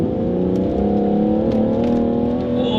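A 2013 BMW 640d F12 diesel accelerates hard on a wet day, its rising engine note building smoothly over a few seconds with a loud, close, throaty sweep.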